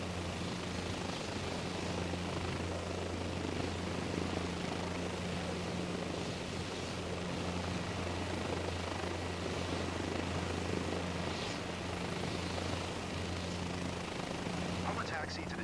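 A helicopter in Microsoft Flight Simulator 2024 hover taxiing across a field, its engine and rotor giving an even, droning whine that holds steady throughout, with a voice talking over it.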